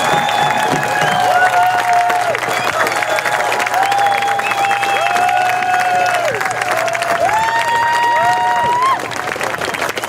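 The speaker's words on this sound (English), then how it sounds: "One more big round of applause for Jewel James, Lummi Nation." An outdoor crowd at a Break Free PNW protest rally at March Point, Anacortes, Washington, applauds and cheers loudly and continuously, while an amplified voice rings out over the sustained clapping.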